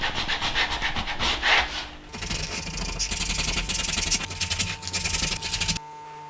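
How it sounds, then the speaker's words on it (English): Sandpaper rubbed back and forth on a leather axe sheath, close and loud rhythmic rasping strokes that change texture partway through and stop abruptly near the end, no talking. "Back to the sandpaper again."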